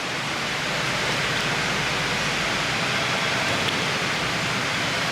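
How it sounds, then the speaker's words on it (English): Heavy rain pours steadily, a dense, even hiss of water with no letup and no voices. "It's starting to pour now too."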